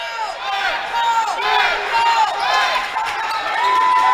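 A basketball crowd at a college game between YU Macs and Mount Saint Mary is being pumped up, with a dense wash of cheering and shouting voices at steady moderate loudness, peaking in brief whoops.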